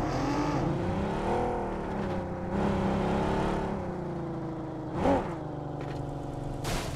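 A car drives in PUBG Mobile, its engine revving with pitch rising and falling over several seconds, broken late by a couple of sharp thuds as the motor keeps droning on.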